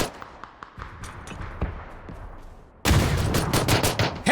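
P92 pistol gunfire in a multiplayer shooter game, scattered faint shots at first, then a sudden loud barrage of rapid overlapping gunfire and impacts that continues to the end.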